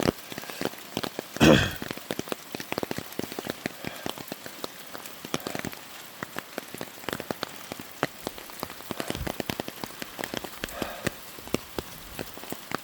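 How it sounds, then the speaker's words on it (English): Rain falling on a front and side yard, easing off, with scattered sharp drops and patters over a soft steady hiss, moderately faint and without talk. "Now the rain's slacking even more."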